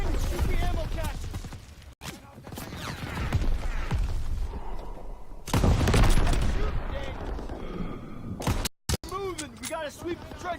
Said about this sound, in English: Daniel, shoot the ammo caches